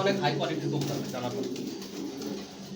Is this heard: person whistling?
no